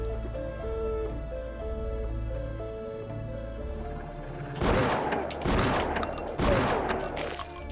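Repeated bursts of gunfire in a first-person shooter with a blood mod, loud volleys crashing in near the end over steady music, several sharp rapid bursts back to back.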